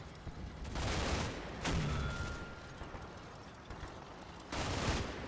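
Artillery fire in Combat Mission: Battle for Normandy, a few heavy booming blasts with rumbling decay, moderately distant, separated by stretches of low rumble.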